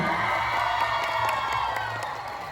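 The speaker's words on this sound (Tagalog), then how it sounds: "gusto ko na rin ang palakpakan at sigawan dito kasal!" Crowd at a live comedy show during a city Sinulog festival event cheering and shouting with some clapping, a steady dense roar of many voices held at even loudness, fading slightly toward the end.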